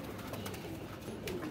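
Pigeons cooing and fluttering on a rooftop among breeder pairs, a steady low murmur of bird sounds filling the clip with no talk.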